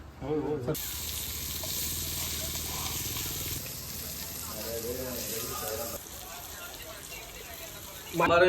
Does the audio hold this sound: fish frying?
yes